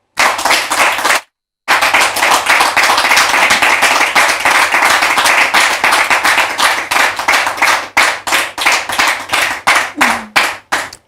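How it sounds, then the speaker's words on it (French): An audience applauds to welcome two guests, a brother and a pastor, at a French-speaking church gathering: dense, loud clapping sustained for about ten seconds after a brief pause, thinning into separate claps at the end. "Merci de les recevoir sous vos applaudissements."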